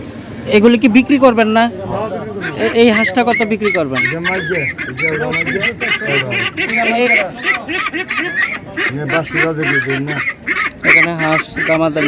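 Ducks for sale at the Borchowna village market in Sakhipur, Tangail, honk and quack loudly and repeatedly up close, with people talking over and between the calls.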